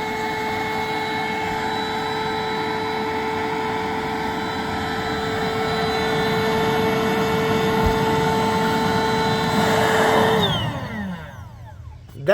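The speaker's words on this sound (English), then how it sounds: "Let's get it re-inflated because it's now deflated a little bit. And she's pumping up again." Built-in electric pump of a Bestway Alwayzaire queen air mattress re-inflating it, a loud steady whirring motor drone with a constant hum that holds for about ten seconds, then winds down and cuts off.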